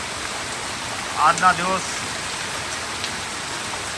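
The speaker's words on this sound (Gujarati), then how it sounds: "હવે જો ફૂલ વરસાદ ચાલુ થઈ ગયો છે સાવરકુંડલામાં" Heavy rain pours steadily over a road in Savarkundla, a dense even hiss throughout, with a brief voice speaking near the middle.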